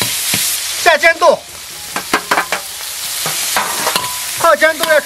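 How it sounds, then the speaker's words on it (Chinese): Pickled broad beans frying in rapeseed oil with pickled chillies, ginger and garlic, sizzling loudly while a spatula stirs and scrapes the pan in repeated clattering bursts. "泡煎豆要炒香"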